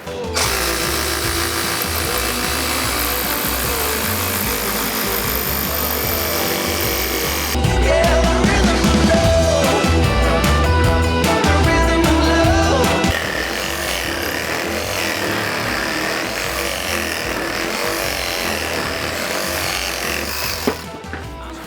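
A GRAND cordless reciprocating saw with a large-toothed blade cuts through a 100x100 wooden beam, giving a loud, continuous buzzing drone that grows heavier and rougher through the middle of the cut before settling back.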